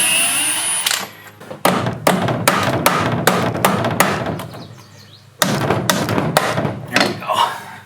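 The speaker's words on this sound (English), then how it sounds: "Just take some light taps. You don't have to beat up on it real hard." Repeated taps loosen the steering wheel of a 2008 Club Car DS gas golf cart, a close series of sharp knocks in two quick runs separated by a short pause, with no talk over them.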